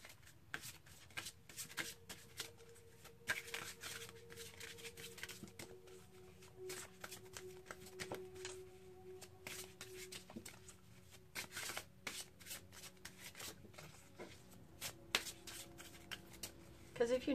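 Tarot cards being shuffled by hand, a long run of soft riffling and rapid papery flicks in uneven bursts, with a faint voice now and then.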